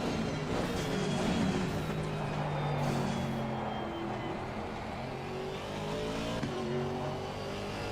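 Aston Martin V8 racing car engine in a racing game, a loud sustained roar climbing through the revs with gear changes and other cars whining nearby on track.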